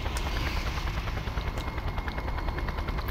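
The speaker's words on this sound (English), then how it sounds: "I have got a chopper on my ass." A helicopter pursues the player in the video game Just Cause, its steady rotor roar filling the mix alongside bursts of rapid gunfire, loud and continuous throughout.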